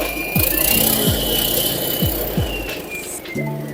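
A BARRET AK35B concrete joint cutter runs at high revs with a steady gasoline engine drone and whine, the blade raised and lowered, with repeated sweeping pitch drops as the throttle is adjusted.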